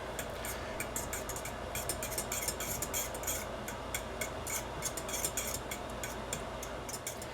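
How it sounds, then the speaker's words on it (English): A fork stirring a yeast mixture in a bowl: rapid, steady light clinking and scraping ticks repeating throughout, close and fairly loud, with no talking. "we're going to stir it around with a fork"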